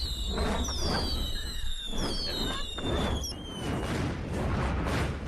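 Fourth of July fireworks go off right in front of a house, whistling rockets shrieking upward in overlapping streaks amid crackling bursts and popping explosions, loud and close, continuing throughout.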